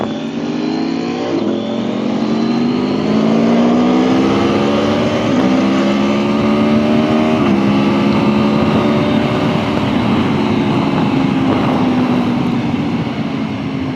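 A 2021 Aprilia Tuono V4 1100 Factory motorcycle at speed, its V4 engine droning loud and close with a pitch that climbs through repeated revs and gear changes, alone with no voices.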